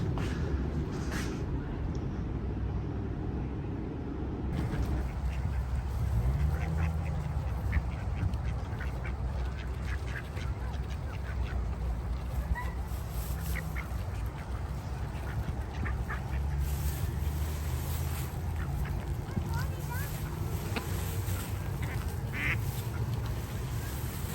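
Ducks quack repeatedly over a steady outdoor background, several birds calling at irregular intervals, close and fairly loud.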